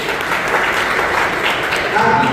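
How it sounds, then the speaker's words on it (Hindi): An audience at a local community event gives loud, close, continuous applause, an even dense clatter of many hands throughout. "आप जोरदार तालियां बजाएं"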